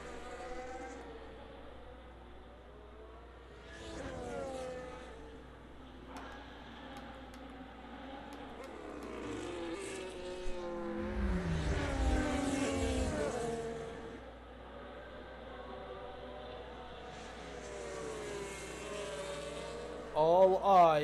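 Race cars in a Bahrain Grand Prix racing game, several engines whining and revving at shifting pitches as cars pass, with a dense loud surge midway and a burst at the end.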